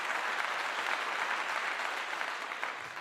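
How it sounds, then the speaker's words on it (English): Audience clapping in celebration, a dense steady wash of many hands filling the whole stretch without a break, fairly loud and close. "And they're clapping in celebration like that"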